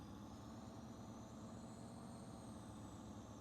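A tractor engine in the Farming Simulator 25 video game drones steadily at a low pitch, a faint continuous rumble with no talking.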